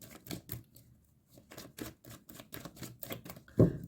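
Tarot cards are shuffled by hand, giving a quick series of light, crisp clicks and flicks in an uneven rhythm. A heavier bump lands near the end.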